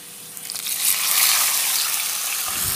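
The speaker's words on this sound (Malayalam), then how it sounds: "ഇനി ഒരു ഗ്ലാസ് വെള്ളം ഒഴിച്ച് കൊടുക്കാം." A glass of water poured into a hot pan of fried onions and spices while making upma, a rushing gush that swells over a second and then settles into a steady loud bubbling hiss.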